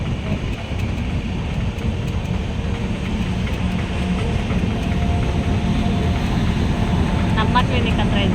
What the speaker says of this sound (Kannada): ಹೋಗ್ತೈತೆ ಟ್ರೈನು.